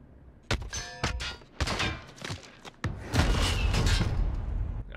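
Gunshots ring out in Call of Duty Warzone solos, several sharp separate shots and thuds followed by a denser burst of fire, fairly close and loud amid game noise.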